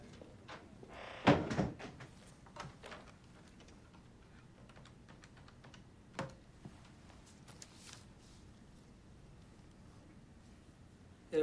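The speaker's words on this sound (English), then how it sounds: "And shut the door." A door is pushed shut indoors with a short knock and clatter, followed by a few quieter bumps and clicks against a faint, hushed room.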